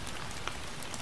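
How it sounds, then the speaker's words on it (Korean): Raindrops patter on leaves in a dense, even shower, soft and continuous with one slightly sharper drop standing out. "아, 빗방울이 나뭇잎 위에 떨어지는 소리네."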